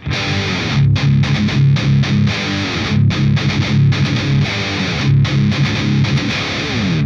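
An electric guitar plays through a heavily distorted amp preset, loud and close, with rhythmic chugging chords separated by short choppy stops.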